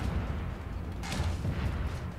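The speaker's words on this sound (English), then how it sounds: "Oh, I love the artillery cannon, the recoil on that arm!" Artillery cannon fire in the VR shooter EVE Gunjack on Samsung Gear VR comes as a couple of dull booming shots over a constant low rumble, fairly close and without talk.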